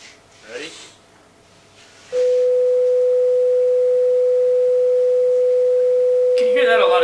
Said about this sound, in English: Now let's listen to 500 hertz, same sine wave.